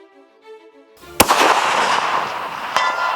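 A single sharp, loud long-range rifle shot aimed at a target about 1,000 away cracks after a brief quiet stretch, then rolls off into a long echoing tail, with a fainter second report near the end.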